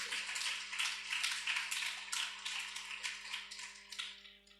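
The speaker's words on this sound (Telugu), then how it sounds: "చప్పట్లు కొడదామా?" A church congregation claps hands together in a fast, rhythmic run of many overlapping claps, lively and sustained before tapering off, with no talk over it.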